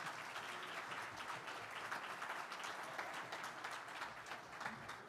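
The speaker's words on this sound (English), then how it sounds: "Let's give them one more round of applause." Guests at a civic spring dinner give a steady round of applause lasting several seconds, fairly distant and quiet, an even patter of many hands.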